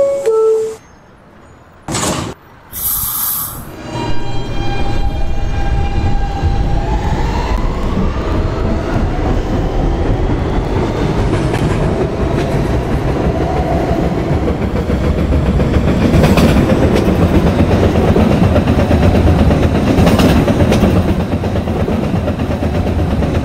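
A Siemens R160B subway train in a Roblox game, Q Express service, starts with a few sharp clicks and tones, then a loud, steady rumble and whine as the train runs, with occasional bursts of clatter.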